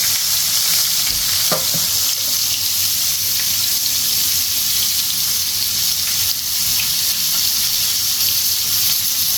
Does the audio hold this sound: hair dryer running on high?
no